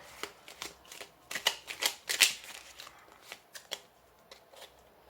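A deck of tarot cards is shuffled by hand in quick, crisp riffling bursts, loudest around the middle of the clip and then trailing off into softer flicks nearby.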